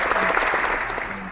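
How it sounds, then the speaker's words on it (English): A crowd gives a round of applause at an indoor gathering, dense clapping continuing steadily from start to end. "we give a round of applause"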